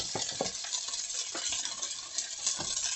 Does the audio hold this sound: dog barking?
no